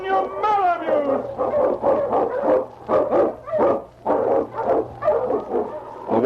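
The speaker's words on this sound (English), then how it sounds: "The Wonder Dog King, swiftest and strongest of Eskimo lead dogs, blazes the trail through storm and snow for" A Malamute lead sled dog barks and yips in rapid repeated bursts, loud and close, with howl-like whimpering at the start over a steady background hum.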